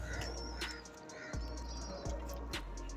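Pigeons coo softly at a distance alongside a few faint chirps, over a quiet low hum with several soft knocks.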